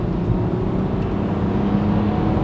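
A Renault Samsung SM5 with a naturally aspirated engine and four-speed transmission accelerating hard in power mode, a steady loud low engine drone throughout with no voices.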